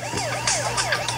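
A police car siren from the Turbo Dismount video game wails in smooth, repeating rising and falling sweeps, loud and close, sounding alone without voices.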